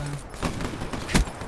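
Online gun-game match in Call of Duty Black Ops 3 with a short burst of gunfire, a few quick shots and one louder close blast within about a second and a half.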